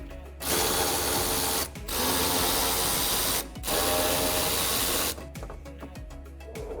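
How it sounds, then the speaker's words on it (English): Power driver whirring in three long bursts as screws come out of a 2015-2017 Ford Mustang fog light housing, loud and close, with short pauses between runs and a steady background hum. "Then you want to remove these 3 screws."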